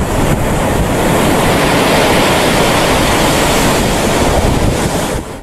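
Loud, close surf surges steadily onto a sandy beach and drains back, a dense continuous wash of water that fades slightly at the end.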